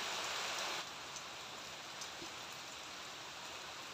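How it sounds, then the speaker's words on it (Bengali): Rain falls steadily on surfaces nearby as a dense, even hiss, louder for the first moment and then settling to a constant patter, with no voices. "তো দেখো কীভাবে বৃষ্টি চলে এসছে"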